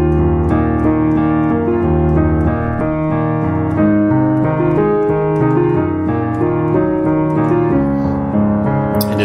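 Piano plays a song with every note at the same even dynamic level, giving a heavy, uniform stream of chords and melody, close and loud throughout with no voices.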